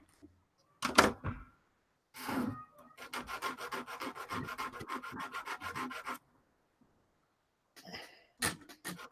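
A hand saw rasping back and forth through a 3D printed part in quick, steady strokes, close by, with short bursts before and after a longer sawing run.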